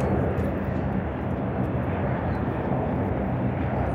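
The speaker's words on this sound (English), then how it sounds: "there's a helicopter landing." A helicopter lands in Toronto, heard as a steady, dense rotor and engine roar that stays loud and constant without a break.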